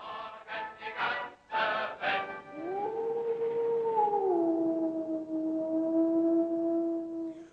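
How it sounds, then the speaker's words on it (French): A wolf howls in a long, mournful rising-then-falling tone that holds steady and loud, preceded by a few shorter yips and barks. "Le loup."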